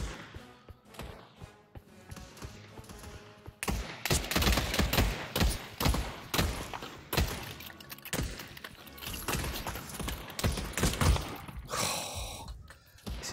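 Rapid bursts of automatic gunfire in the VR shooter Pavlov VR, loud and close, rattling on and off for several seconds after a quieter start.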